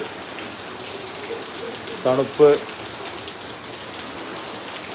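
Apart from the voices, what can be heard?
heavy rain falling in Kozhikode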